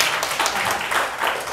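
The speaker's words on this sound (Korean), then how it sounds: "박수 한번 칠까요?" A church congregation at a Korean Sunday worship service applauds, a dense, steady wash of many hands clapping together at moderate loudness throughout.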